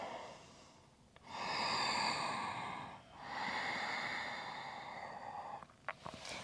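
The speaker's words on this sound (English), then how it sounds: "Feeling the wave of this breath." Ocean-style ujjayi breathing during a yoga flow, two long, soft, hissing breaths close to the microphone, each stretched over a couple of seconds with a brief pause between them.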